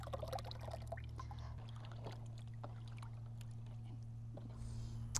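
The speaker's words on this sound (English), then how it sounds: "then we're going to pour our soupy slush over" Soupy paper pulp slush is poured into a water bin for papermaking, making faint splashing, gurgling and trickling over a constant low background hum.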